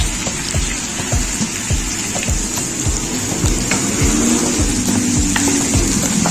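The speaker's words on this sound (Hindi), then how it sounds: "इस पॉइंट पे मैंने टिंडे जो मैंने कट किए थे वो सारे हमने इसमें डाल देने हैं।" Chopped tinda (round gourd) with two whole green chillies tipped into a hot pan, giving a steady loud sizzling, bubbling hiss with rhythmic stirring scrapes throughout, no voices.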